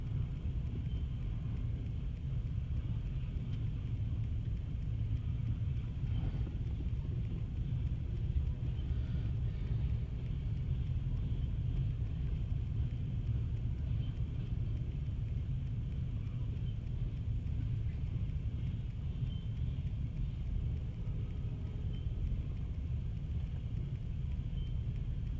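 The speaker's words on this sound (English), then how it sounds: "just seeing a slow train go by isn't really the best thing in the world" A slow train rolls past, giving a steady low rumble that stays even and fairly quiet throughout, with no other sounds standing out.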